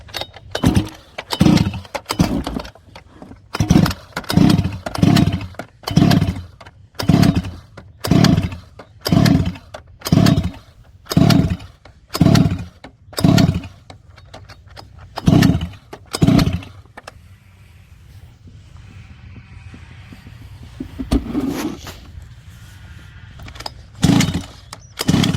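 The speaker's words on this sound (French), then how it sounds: "dès qu'on va entendre le moteur cracher un peu" A Rovan Baja 1/5 scale RC car with a 29cc petrol engine cranks and sputters in a steady series of loud, close bursts during starting and break-in, then briefly goes quieter before firing again.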